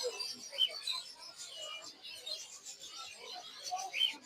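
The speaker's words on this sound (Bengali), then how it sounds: "বাজিগার পাখি, বাজিগার পাখি আছে" Budgerigars and other caged birds in a bird shop chirp and tweet in quick, scattered calls against soft background noise, several brief bright trills standing out near and fairly faint throughout.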